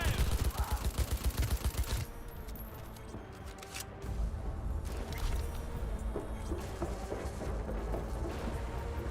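Gunfire in the video game Cyberpunk 2077: a rapid, loud burst of automatic shots for the first two seconds, then scattered shots and booming combat noise continuing under a busy, dense game soundscape.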